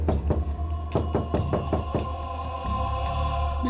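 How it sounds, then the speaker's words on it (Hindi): Knocking on a door inside a house, a series of sharp close raps in uneven clusters against a steady low hum, with no talking. "दरवाजे के अंदर धक धक हो रहा है।"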